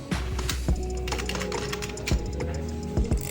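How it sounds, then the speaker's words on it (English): Rapid, steady keystrokes on a computer keyboard typing out a name for a birthday flyer, close and clear, with a few heavier key presses mixed into the run. "so I just have to type Miss Frida"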